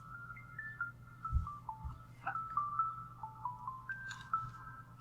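A phone ringtone plays alone, a melodic electronic tune of short rising and falling notes repeating across the clip over a low steady hum, fairly close and clear.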